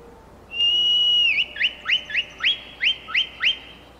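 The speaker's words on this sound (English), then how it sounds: "Okay, so the horse whistle." A horse-summoning whistle in the video game Skyrim: one long, steady high whistle note, followed by a quick run of about eight short, rising chirps. No voices are heard.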